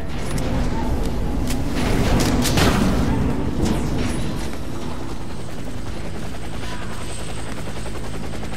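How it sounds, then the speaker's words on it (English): A helicopter arrives for extraction in the shooter game Warface, its heavy rotor roar loud and steady throughout, with a few booming thuds mixed in early on. "Helicopter is inbound."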